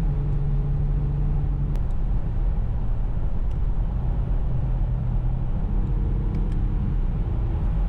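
A 2018 Kia Stinger with an 8-speed automatic in paddle-shift mode drives along, its engine rumbling steadily inside the cabin with a few tonal shifts in pitch as gears change, with no talking.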